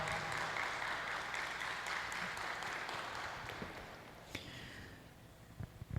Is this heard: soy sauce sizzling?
no